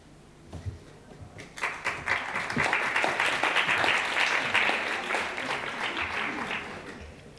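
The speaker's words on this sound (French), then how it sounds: "Vous applaudissez déjà?" Conference audience breaks into applause as a speaker is handed the floor, starting with a few scattered claps and swelling into sustained, dense clapping across the hall for several seconds before slowly thinning out.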